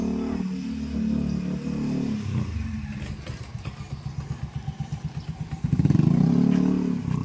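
A motorcycle engine putters nearby with a rhythmic chugging that speeds up, then swells into a louder revving rush as the bike passes close.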